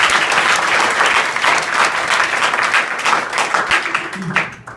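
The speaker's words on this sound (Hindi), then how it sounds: "एक जोरदार ताली बजाएं" A room full of people at a college event in Azamgarh, India, claps steadily for several seconds, a dense, continuous patter of applause that thins slightly toward the end.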